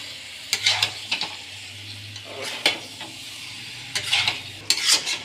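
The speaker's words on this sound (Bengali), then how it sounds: "দেখুন মাংস আমাদের আজকের ঝুলনবাবু রান্না করছে" Chicken curry is stirred and fried in a pan, with bursts of sizzling and scraping coming in irregular strokes over a low steady hiss, close and fairly loud, with no talking.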